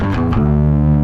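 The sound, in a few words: bass guitar line descending the E blues scale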